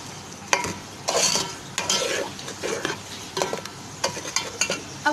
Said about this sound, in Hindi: चिकन वाइट कढ़ाई को मसाले में अच्छे से भूनेंगे।